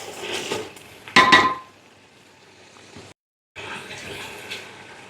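Yogurt is lightly whisked in a bowl for a mutton qorma, giving close, wet, sloshing scrapes and clinks against the dish. The sound comes in uneven strokes with a brief silent gap.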